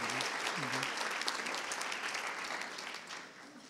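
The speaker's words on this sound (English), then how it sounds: "so we applaud you for that" An audience at a medical assistant presentation gives sustained, fairly quiet applause that gradually fades toward the end, with faint voices mixed in near the start.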